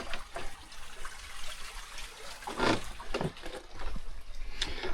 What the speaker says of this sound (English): here's that creek that I was hearing